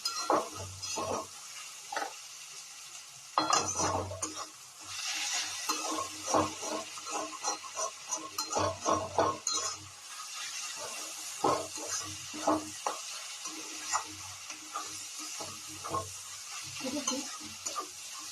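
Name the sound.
onion and capsicum frying and stirred in pan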